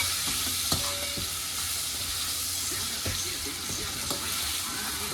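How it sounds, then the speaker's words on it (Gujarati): Vegetables with tomato, turmeric and salt sauté in a hot pan, giving a loud, continuous sizzle broken by a few sharp stirring scrapes and taps, with no talking. "આ જો સતળાય છે મસ્ત."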